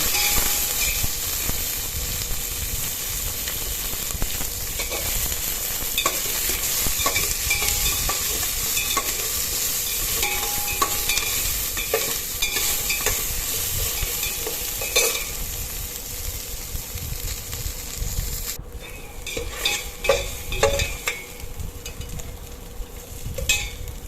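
Curry leaves, onion and green chillies for a village-style mutton curry fry in a pan, a loud continuous sizzle with frequent close scraping stirs throughout, no voices.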